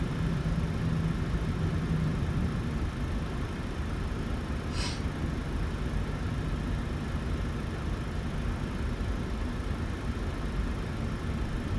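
PMDG 737-800 engines in Microsoft Flight Simulator give a steady, low, droning hum with a broad hiss above it, even and unchanging, with one brief faint chirp partway through.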